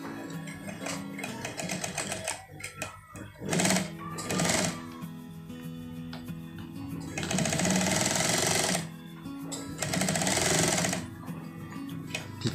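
Close-up, a sewing machine stitches a jacket pocket in bursts of rapid mechanical chatter. Several runs of different lengths are separated by pauses with handling noises.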